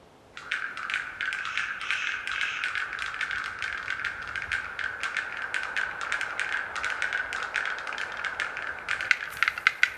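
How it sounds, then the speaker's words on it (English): Rapid, steady clucking clicks from a male black-billed capercaillie courting females, rattling on continuously for about ten seconds at moderate distance with no voices. "Unusual clucking sounds fill the air."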